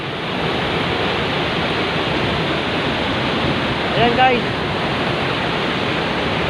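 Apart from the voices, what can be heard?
waterfall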